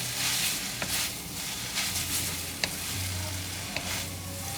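Yellow noodles stir-fried with sauce and chili sizzle steadily in a pan, with a continuous soft frying hiss and a few light scrapes of stirring, no voices.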